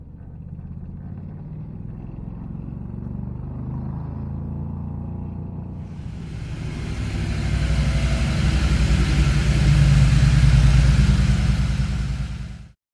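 Renault car powered by a 670 V-twin Predator engine, running with a steady throbbing idle that then rises into a louder, fuller roar as it revs up, cutting off sharply at the end.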